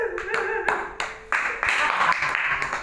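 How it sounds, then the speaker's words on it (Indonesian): An audience at a literacy talk claps their hands, several bursts of clapping that start and stop in uneven waves, fairly loud and close, with some speech around it. "Tepuk tangan dulu."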